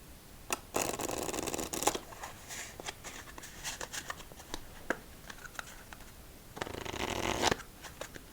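A Bee playing card deck being shuffled, with two loud riffle bursts, one near the start and one toward the end, separated by softer card handling and taps, close up and quiet otherwise.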